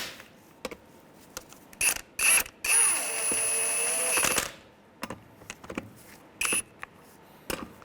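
A ratchet fitted with a 19 mm socket snugs up bolts on a 2003-2011 Honda Element, giving short bursts of clicking and a longer sustained ratcheting run, with quiet gaps between the strokes.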